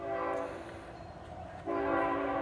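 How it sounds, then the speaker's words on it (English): A train horn sounds twice in a sustained chord, first fading then returning louder, heard from some distance over the low rumble of the passing train, with no talking. "And there's a train."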